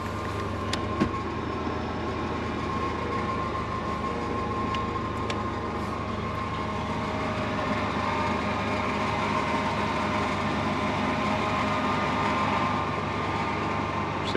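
A Nissan Patrol GU engine runs steadily while being switched from LPG over to petrol, a continuous low rumble with a constant hum, fairly close and unbroken throughout, with no voices.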